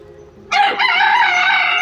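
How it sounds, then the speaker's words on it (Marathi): A rooster among farm chickens kept beside goats lets out one loud, close crow that starts abruptly after a quiet moment and holds its drawn-out tone to the end. "ह्या कोंबड्या आहेत."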